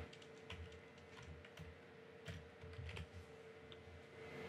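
Soft, irregular tapping of computer keys, quiet and close, with a faint steady hum underneath.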